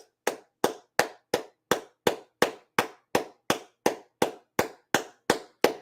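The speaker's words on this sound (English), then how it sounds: "Everybody give a round of applause to Eli." Single pair of hands clapping in a steady, even rhythm, about fifteen sharp claps spaced evenly, close and dry in a football team locker room after a Buccaneers versus Packers game, with no talk.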